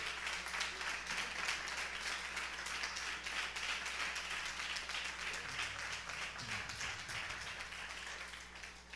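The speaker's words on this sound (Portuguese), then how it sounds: "Quem crê nisso, dê um aplauso ao Senhor." A church congregation at a Portuguese-language worship service applauds in a steady, dense wash of clapping that carries on throughout and tapers slightly near the end.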